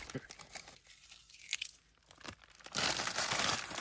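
A wrapper or card pack, likely around WWE figures, torn open up close: scattered crinkles, then a loud sustained rip near the end, with a voice speaking over the handling.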